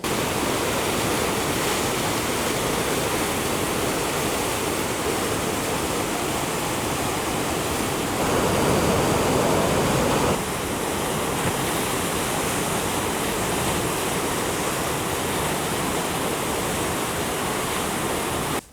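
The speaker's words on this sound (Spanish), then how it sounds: "no es Hawái, no son las costas del Pacífico, no es California, es el río Eisbach en Múnich" Steady, loud rushing water of the Eisbach river standing wave in Munich, a dense continuous roar like surf, with no pauses and no voices.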